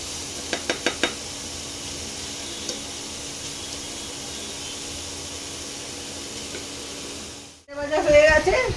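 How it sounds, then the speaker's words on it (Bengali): Chopped onion and garlic fry in oil in a pan, giving a steady low sizzle with a few sharp clicks early on, then a louder burst of stirring and scraping near the end. "পেঁয়াজের সঙ্গে রসুনটাও ভাজা ভাজা করে নিচ্ছি"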